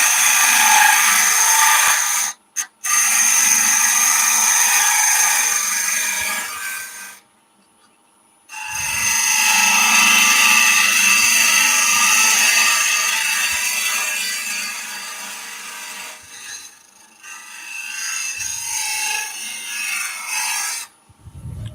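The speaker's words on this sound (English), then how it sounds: "So a side scrape is just literally using the side of the tool to scrape as you cut forward." A wood lathe spins a pencil crayon and epoxy resin vase while a parting tool and a side scrape grind against it in long, loud rasping passes, broken by a few short pauses where the cutting stops.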